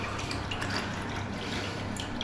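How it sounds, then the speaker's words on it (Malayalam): A toilet cistern refills with water after a syphon replacement, producing a quiet, steady trickle and hiss with faint drips throughout, heard alone without talk. "ഒന്ന് വെള്ളം ഫുള്ളാവും, നമുക്ക് വെയിറ്റ് ചെയ്യാം."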